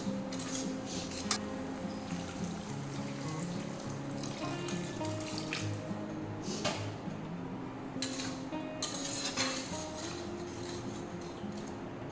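Water poured into a pan of egg curry, a steady running stream with occasional clinks of a utensil, moderately close and without talk.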